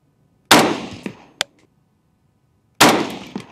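Two loud, sharp rifle shots from a 224 Valkyrie loaded with Hornady brass on a 100-yard outdoor range, each followed by a short echoing tail, with a couple of small metallic clanks between them.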